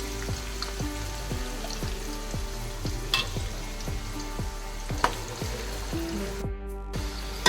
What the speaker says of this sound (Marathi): आणि आता कांदा टाकणार आहोत आपण तेल थोडं जास्त टाकायचं आहे मटणासाठी